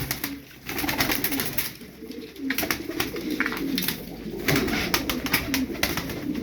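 Tumbler pigeons cooing steadily in soft, repeated low coos, with faint fluttering and background rustle throughout.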